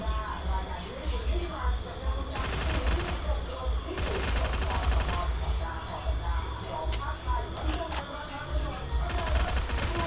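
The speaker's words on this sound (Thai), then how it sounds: "ขายิงเราอ่ะ ยิงเราจากตรงไหนอ่ะ" Bursts of automatic gunfire ring out in the Free Fire battle-royale game, several sharp rapid volleys spaced across the moment, with a player's voice talking over the action.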